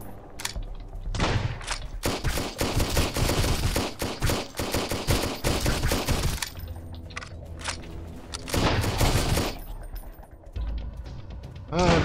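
Rapid bursts of gunfire from a shotgun in the Sunkenland survival game, dense and loud through most of the stretch, with a short lull before another heavy volley and a final burst at the end.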